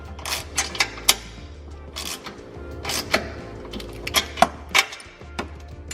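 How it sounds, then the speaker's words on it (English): A ratchet snugs down a 13mm bolt on a Hellcat differential brace in a garage, clicking in quick bursts with short pauses between them, close and fairly crisp. "come in here and snug this down, not tight at all, just get it started"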